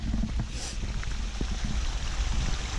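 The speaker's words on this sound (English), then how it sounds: "flushing out water." Water gushes from a pipe along a trail in Dzukou Valley, Nagaland, making a steady broadband rush like a small waterfall, heard at moderate distance, with a few faint knocks.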